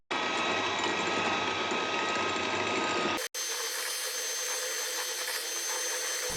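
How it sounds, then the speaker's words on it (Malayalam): An electric mixer beats sugar at high speed for a bakery-style marble cake, giving off a loud, constant motor whine up close, cut off for an instant midway before it resumes. "അതുപോലെ നമുക്ക് നന്നായിട്ടൊന്ന് ഹൈ സ്പീഡിൽ ഒന്ന് ബീറ്റ് ചെയ്തിട്ടെടുക്കാം"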